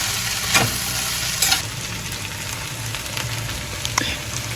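Okra pieces fry in oil in a pan for a crispy Telugu-style bendakaya fry, a steady close sizzle broken by a few sharp stirring scrapes, without any talking.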